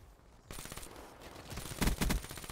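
Enemy automatic gunfire aimed at the player in a team deathmatch shooter game, heard as a continuous rattle of shots that starts fairly faint, grows denser and peaks in a louder, closer flurry near the end.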